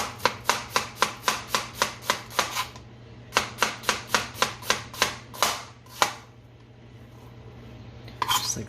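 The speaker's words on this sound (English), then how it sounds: "I'm gonna slice it this time. So you go with the grain, I guess, of the onion." A knife slicing an onion on a cutting board in a home kitchen: a quick, even series of crisp chops, about a dozen in a row, a pause, then another run of cuts, close and clear with a low steady hum beneath.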